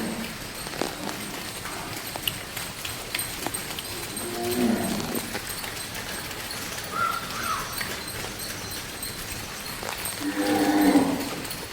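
Cows on a small farm moo several times, spaced out over the stretch, against a busy outdoor background with scattered knocks and rustling.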